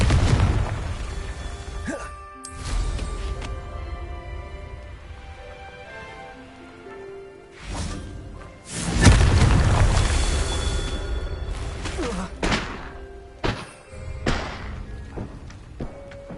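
Repeated Confringo fire spells are cast in Hogwarts Legacy, producing several booming blasts and thuds over a game music bed, with a heavier explosion near the middle and smaller pops toward the end.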